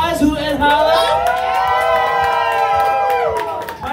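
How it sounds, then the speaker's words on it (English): A crowd at a drag queen pageant claps, cheers and whoops loudly, the cheering rising in sustained shouts over the applause, with music or voices ringing through throughout. "One big round of applause! Hoot and holla!"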